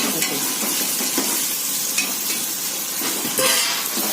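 Ginger and garlic sauté in a pan for a vegetable biryani, a steady close sizzle broken by regular scraping stirs of a metal spoon against the pan, with no voices.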